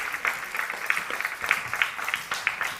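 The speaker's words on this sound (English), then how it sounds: "Give a big round of applause to our next plenary moderator." Audience applause at a human rights conference, steady clapping from a seated crowd with sharp claps standing out across the room, no voices over it.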